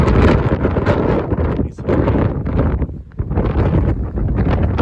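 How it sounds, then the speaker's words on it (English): Strong wind roars and buffets the microphone continuously, a loud rumbling gusty noise with brief dips, no clear voices. "Windy as hell."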